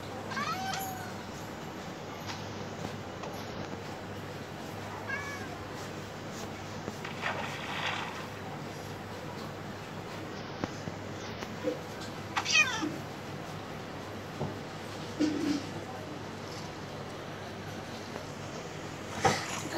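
A cat meows repeatedly in a video game, the calls faint and scattered over a steady background of game ambience and faint footsteps, with no clear talk.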